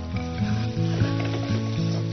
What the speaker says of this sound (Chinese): 我放进凉油之后，虾仁就下锅